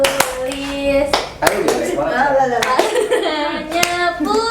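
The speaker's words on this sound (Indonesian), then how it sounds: "Ayo tepuk tangan semuanya." A school class clapping hands together, with sharp claps in bursts under children's and a teacher's voices talking and calling out throughout.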